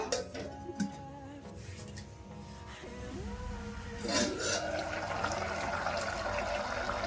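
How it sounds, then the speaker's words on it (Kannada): Sambar bubbling and simmering in a pot on the stove, a steady rasping bubble texture that continues throughout and grows louder partway through, close by. "ಇವಾಗ ಚೆನ್ನಾಗಿ ಕುದೀತಾ ಇದೆ."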